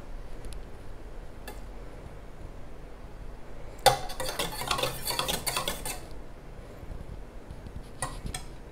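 Whisking chiffon cake batter in a bowl, heard as a burst of rapid metallic whisk strokes against the bowl lasting about two seconds, preceded and followed by a few isolated clinks, close and moderately loud.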